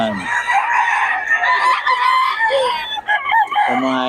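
Chickens clucking with a rooster crowing at a busy poultry market in Bocaue, close and loud and nearly continuous, with faint talk underneath.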